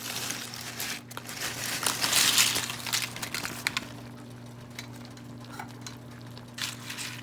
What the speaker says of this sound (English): Now that my chili has been boiling for at least 5 minutes, it's time to add the tortillas